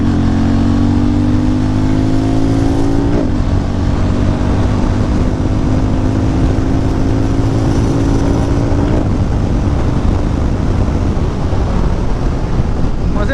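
A Hero Mavrick 440 motorcycle is ridden hard at full throttle, its engine note climbing steadily through two gear shifts, with loud wind buffeting over the whole run.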